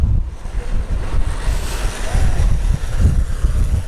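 Strong wind buffets the microphone on Westminster Bridge in a steady low roar, gusting continuously with no clear voices.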